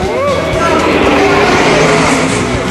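Race cars roar around Riverside Speedway in a dense, continuous engine drone, pitch rising and falling as several machines pass close by, with a faint voice underneath.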